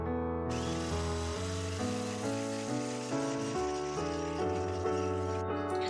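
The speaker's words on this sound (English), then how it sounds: "I'm going to whisk it at a high speed till I get the stiff" An electric whisk running at high speed, beating meringue for cashew macarons, gives a steady loud mechanical whir with a wavering pitch. The sound is continuous and close, with no talking.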